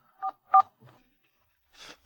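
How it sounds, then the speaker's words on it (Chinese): Telephone keypad dialing tones: two short, clear beeps, a softer third tone, then a faint, brief tone after a pause, all against near-silence. "你赶紧给小陈打电话，让他继续把见面礼送过来。"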